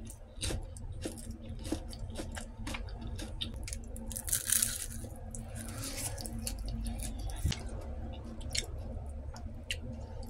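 Someone bites and chews a crispy fried egg roll with corn filling, giving soft irregular crunches and mouth sounds close to the mic, faint and without talk.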